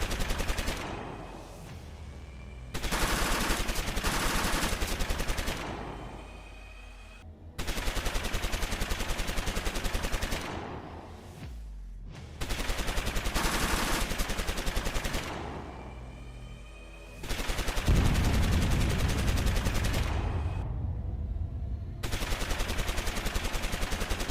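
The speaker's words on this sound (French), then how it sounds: "Nous avons vu une fusillade, différentes explosions." Sustained bursts of rapid automatic gunfire in a video game shootout at a government building in Los Santos, loud and continuous, broken by brief pauses, with a deep explosive thump partway through.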